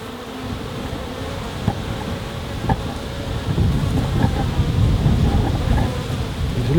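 Bees from a wild colony being cut out of a structure, a steady droning buzz with low rumbling handling noise and occasional knocks building toward the end.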